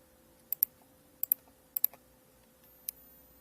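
Buttons clicking sharply on a Konica Minolta CM-2600d spectrophotometer during measurements: several pairs of quick, crisp presses spaced apart, close and distinct against quiet, with no talk.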